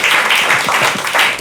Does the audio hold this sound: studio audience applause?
yes